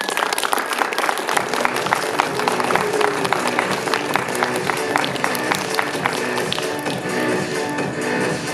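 A convention panel audience at SF Comic Con claps steadily, the dense, even applause of a crowd welcoming a guest to the table, continuing throughout.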